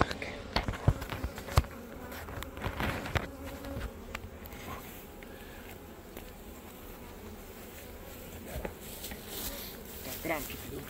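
Honey bees buzz around hives at a working apiary, a steady insect drone with scattered louder passes and occasional clicks and handling noises, heard near and moderately loud.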